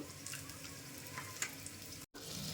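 Butter sizzles softly in a pressure cooker, a steady faint crackle with a few small pops, heard alone.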